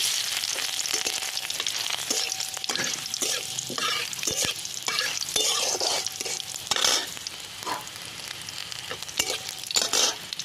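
Dried red chilli and crushed garlic with nigella seeds frying in oil for a spinach and poppy-seed stir-fry, a steady close sizzle with repeated stirring scrapes throughout.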